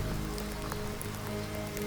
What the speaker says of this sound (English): Today, standing out here in the rain with only 2 decent fish to show for hours of fishing